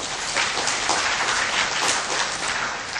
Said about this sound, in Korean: 잘했다고 생각하시면 좀 박수 한번 부탁드리겠습니다